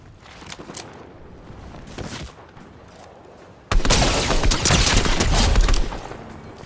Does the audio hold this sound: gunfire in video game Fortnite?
yes